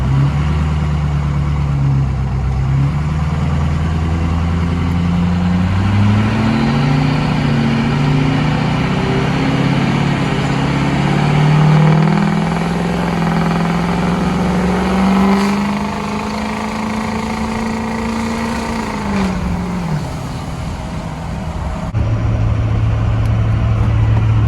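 Ford 6.0 Powerstroke diesel pickup with a drop-in non-VGT turbo cruising near 60 mph, a steady loud drone whose engine pitch climbs slowly, then drops, heard from inside with constant road noise and no talking.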